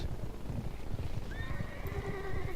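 In the World of Warcraft video game, a horse lets out a high, wavering neigh over a busy rumbling background with hoof-like thuds.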